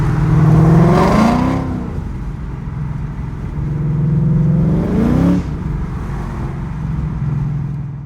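A 2019 Mustang GT 5.0 in fourth gear with a slipping Vengeance stage 2 six-puck twin-disc clutch, revving up hard twice, the engine note climbing steeply without matching road speed, between steadier droning stretches.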